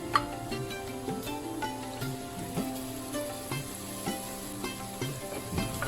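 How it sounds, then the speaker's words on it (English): Dal sizzling and frying steadily in a pan after masala powder mixed with milk is stirred in, a continuous close crackle with occasional stirring scrapes for a Himachali dham dish. "And we are going to again fry this until the milk dries up."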